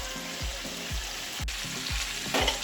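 Fish frying in a pan for fish biryani gives a steady, close sizzle, with a rhythmic series of soft scraping or stirring strokes and a sharp click partway through.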